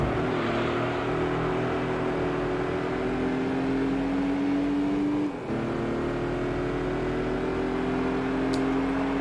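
Race car engine in Gran Turismo 3 on PS2, a Beetle Cup race against cup cars: a steady, loud engine drone with rising pitch through the gears, one brief shift dip, and no talk over it.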